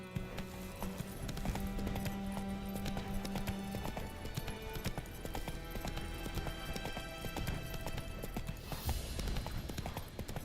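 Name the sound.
horse Roach trotting in a video game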